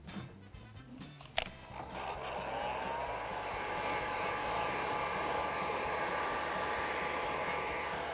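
After a click, a hair dryer switches on and blows steadily, drying paint on a wooden box in a continuous close, rushing hum.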